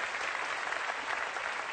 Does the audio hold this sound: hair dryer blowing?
no